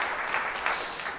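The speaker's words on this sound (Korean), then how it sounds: "박수 감사합니다" Church congregation applauding after a choir's hymn, a brief burst of many hands clapping, moderately loud and fading at the end.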